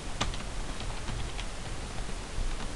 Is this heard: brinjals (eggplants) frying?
no